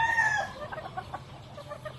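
A sweater gamecock rooster, an F1 red bird, crows loudly and close at the start, with a rising then falling call. Softer clucks and farmyard noise follow on a pen in Bayambang, Pangasinan.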